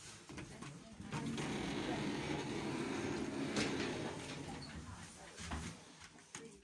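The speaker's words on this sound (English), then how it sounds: "Doors closing." Sliding doors of a 1990s Stannah passenger lift in a Waterstones bookshop in Chichester closing, a steady low mechanical rumble with faint clicks, heard close.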